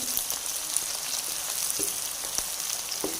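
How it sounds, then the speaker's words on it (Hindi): Chopped onions, cut in coarse chunks for cauliflower kofta, fry and brown steadily in a pan, giving a dense, even sizzle with a few small pops and crackles throughout and no voices. "इधर हम प्याज को अच्छे से ब्राउन करेंगे।"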